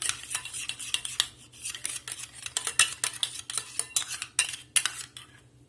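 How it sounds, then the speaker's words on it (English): A spoon clinks and scrapes briskly against a bowl while bhel puri ingredients with a pinch of black pepper are tossed together, a quick irregular series of close metallic taps with no talk. "Now mix them."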